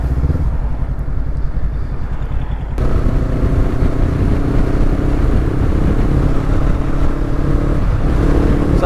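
A Honda CB500X motorcycle engine revs under load, then briefly drops as the rider shifts up a gear and pulls on with a loud, steady drone.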